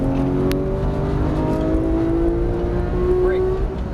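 A Porsche 991 GT3 on a race track, its engine holding a steady, loud in-car drone with a rising tone under throttle, while a voice talks over it.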